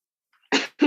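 Two short, harsh coughs from one person, close and dry, the first slightly longer, separated by a brief pause after near silence.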